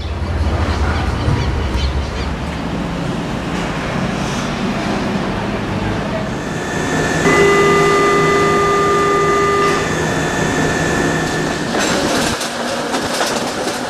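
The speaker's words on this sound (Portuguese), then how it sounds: "Partimos em um trem de subúrbio." A suburban train in Brazil rumbles along the rails with rhythmic clatter, and sustained high squealing tones ring out midway before the clatter returns.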